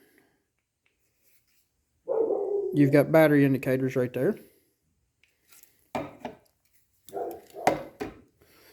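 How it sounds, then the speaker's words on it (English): A dog barks in the background as a man describes a Fenix flashlight, giving a few sharp separate barks between and under his talk. "Sorry for the dog in the background."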